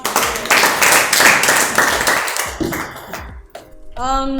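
A group claps hands in rhythm at a church gathering, loud, close and sustained for a few seconds, then fades as a voice speaks at the end.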